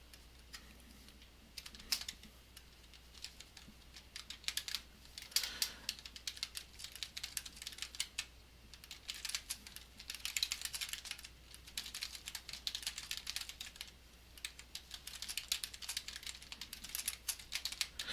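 Typing on a computer keyboard, a quiet, uneven run of rapid key clicks in bursts with brief pauses, close and alone without speech.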